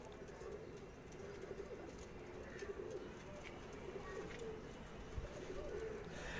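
Soft cooing from loft pigeons repeats faintly in the background over a steady noisy ambience, with occasional distant chirps.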